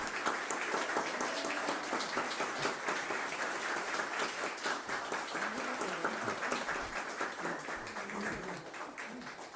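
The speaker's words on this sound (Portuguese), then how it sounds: "peço uma calorosa salva de palmas à querida coronel do 7º Batalhão, querida Rosimeire." Audience at a ceremony honouring women gives warm applause, dense and sustained clapping from a crowd that tapers slightly toward the end.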